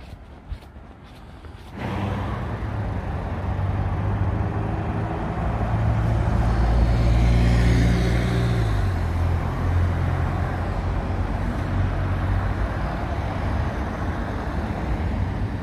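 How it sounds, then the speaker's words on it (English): Heavy vehicles on a busy UK road rumble past close by. A loud engine drone swells in after a quieter start, peaks as it passes, then continues as steady traffic noise. "I'm gonna come down this busy road"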